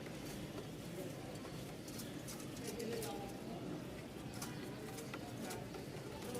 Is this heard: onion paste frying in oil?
no